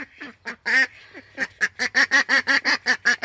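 A broody duck quacks repeatedly while complaining at chickens, close and loud, with a few scattered calls followed by a rapid, steady run of harsh quacks.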